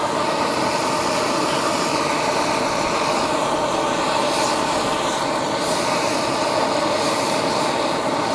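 Steady, loud jet-like roar of a camping stove burner running inside a van on a winter camping trip in Alaska, a constant broadband hiss and rumble with no breaks.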